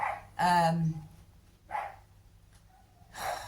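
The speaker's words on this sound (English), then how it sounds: "My dog is so loud." A dog barks in a few separate bursts, one loud and close followed by quieter barks, against a quiet indoor background.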